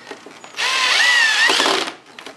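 Power drill driving strong drywall-type screws into a pre-drilled wooden table leg during a repair, one continuous whirring run of more than a second rising in pitch as the screw seats, close and loud, with quiet handling before and after.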